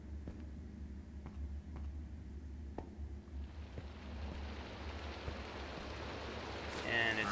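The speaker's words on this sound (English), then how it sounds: "And it's still raining" Rain falls in the Minecraft video game as a soft, steady hiss that grows louder and fuller partway through, with a few faint ticks early on and a brief bright chime at the very end.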